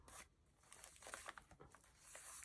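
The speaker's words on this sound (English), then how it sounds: "Paper ruffle." Scrap paper in a handmade junk journal, collaged from magazine pages and receipts, rustling and crinkling as the sheets are handled, with soft irregular bursts that rise and fade close by and no voices.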